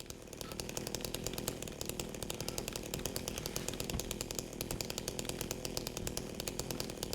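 A chainsaw in the video game Silent Hill 2 revs continuously, its buzzing engine pulsing in rapid, steady bursts at moderate level with no voices over it.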